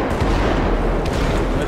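A rapid barrage of fireworks booms and pops crackles in Grand Theft Auto V, loud and dense over a short stretch, with faint talk mixed underneath.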